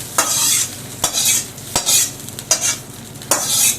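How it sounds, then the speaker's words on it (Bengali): Hot oil tempered with chillies and mustard is poured and swirled over chutney, giving short bursts of loud sizzling hiss separated by brief sharp knocks, close up. "এই যে চাটনির ওপরে এটা ঘুরিয়ে ঢেলে দিচ্ছি"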